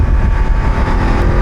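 A 2024 Voge 900 DSX motorcycle engine running close by with a throaty, rumbling revving tone and a slightly uneven throttle pulse.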